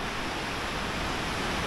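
Ocean waves at Usami Beach on the Izu coast, a surfing spot with moderate swell, produce a steady, broadband wash of surf noise throughout, with no voices.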